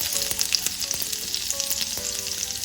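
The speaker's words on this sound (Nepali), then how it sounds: "तेल राम्ररी ताती पनि सकेको छ। मैले यसमा पुऱ्याएँ 1/4 चम्चा जिरा, एउटा हरियो खुर्सानी, 2टा जति लसुनको पोटीलाई यसरी कुटेर राखेको छु" Cumin, a green chili and crushed garlic sizzle and crackle in hot oil, a close, busy frying sound with scattered pops and light stirring scrapes.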